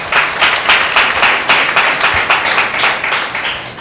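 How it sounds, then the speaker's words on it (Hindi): A congregation at a Sunday church meeting claps together in brisk, rhythmic applause that is loud and close for several seconds. "सिस्टर के लिए ताली बजाएंगे भाई।"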